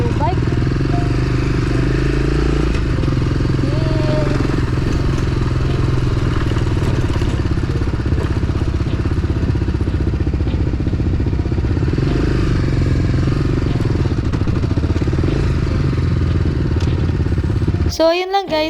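Adventure motorcycle ridden on a trail, a steady engine drone with rumbling and clatter, heard under someone talking.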